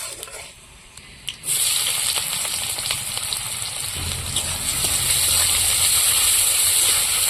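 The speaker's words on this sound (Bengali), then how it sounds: "পেঁয়াজটা আমি বেশি ভেজে নেব না এই হালকা একটু নাড়াচাড়া দিয়ে" Onion dropped into hot oil with bay leaf and whole cumin, a sudden loud sizzle bursting in after a quieter start and then holding as a steady bright hiss with faint stirring beneath.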